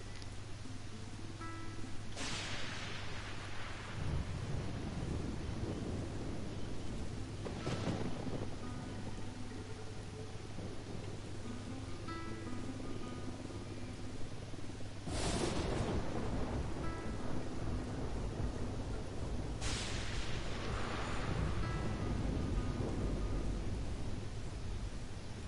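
A heavy thunderstorm rumbles in the game Ghost Recon Wildlands: steady rain hiss under four loud thunder cracks spaced a few seconds apart, each rolling off slowly, with no voices.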